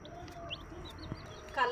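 Dyed, colored chicks give a few faint, thin high chirps at quiet, irregular intervals, ending in a short, louder burst.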